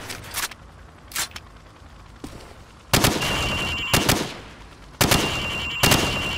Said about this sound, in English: I want to see you fire from the hip.